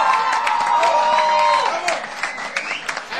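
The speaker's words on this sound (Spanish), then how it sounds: "Si estuviesen ebrios, aplaudirían un poquito más" An audience applauds and cheers at an awards show, a dense clapping crowd, loud at first and then thinning, with a voice speaking over it.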